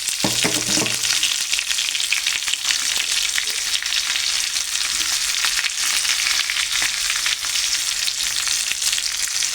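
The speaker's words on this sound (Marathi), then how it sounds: "आता थोडासा आता ह्याच्यात मी मसाला घालून घेणार" Masala spices tipped into hot oil in a pan of stuffed brinjal cook up a loud, steady sizzle and crackle that runs without a break, close and alone with no talk.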